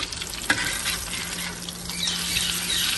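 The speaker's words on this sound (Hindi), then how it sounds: "अब मैं डिप करके देन मैं इसको फ्राई कर लूँगी" Bread dipped in egg fries in hot oil for savoury French toast, a continuous close crackling sizzle with one sharp clink near the start and a low steady hum underneath, no talking.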